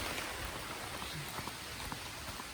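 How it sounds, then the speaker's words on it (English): Steady rain falling at a campsite during a solo camping pack-up, a dense even patter with scattered close drops, fairly quiet throughout and with no one talking. "It's like really raining."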